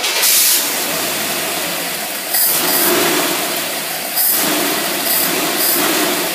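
A small engine is started and runs roughly as a loud, close, hissing roar that surges and dips several times, with no speech.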